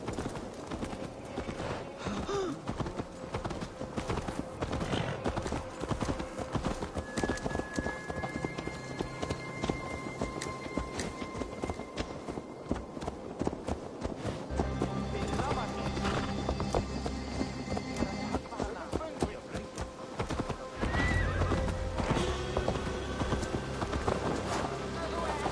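Horse hooves clip-clop steadily with an occasional neigh in Assassin's Creed Valhalla, set against continuous game ambience and music, with a voice talking over parts of it.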